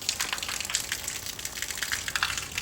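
Rainwater gushes through a home yard during a downpour, a steady rushing, splashing flow with small uneven bursts, heard fairly close and without speech.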